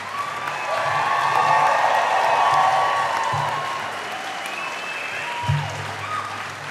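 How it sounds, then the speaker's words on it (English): Graduates at a 2011 fall convocation morning ceremony applaud their families, friends, faculty and staff. The clapping from a large crowd swells, holds steady, then tapers off, with low murmuring and a brief voice near the end. "I invite you, the graduates, to applaud your family, friends, and faculty and staff who've helped you along the way"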